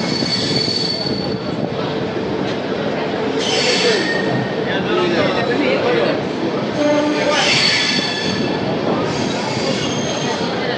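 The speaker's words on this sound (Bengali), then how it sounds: "রেল লাইনের বুক চিরে কিন্তু আমাদের ট্রেন এখন 125-এর গতিবেগে ছুটে চলেছে।" A train hauled by a diesel locomotive runs at about 125 km/h, with a steady loud rolling roar, rattling wheels and high squealing tones rising and falling throughout, and faint voices in the background.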